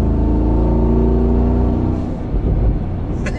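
A Mansory G63 Star Trooper pickup accelerates hard out of town, its loud, deep engine roar steady and close, then easing slightly as the pitch shifts near the end, with no voices.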